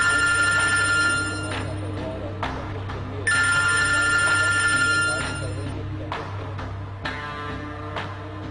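A telephone rings in repeated loud electronic trills that start and stop in bursts against a low steady hum, with no talk over the rings.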